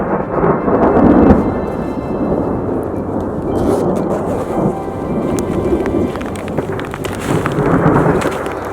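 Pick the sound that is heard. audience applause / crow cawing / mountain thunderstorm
mountain thunderstorm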